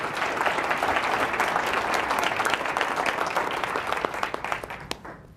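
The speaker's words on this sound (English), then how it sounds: "One more round of applause for Mayor Hutto" Audience at a county State of the County address claps steadily, a full crowd ovation that gradually thins into a few scattered claps and fades out near the end.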